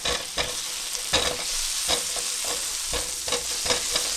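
Garlic paste sautés in a hot pan for a quick breakfast dish, a close sizzling hiss broken by repeated scraping strokes of a spatula stirring at a steady rhythm, with no voices.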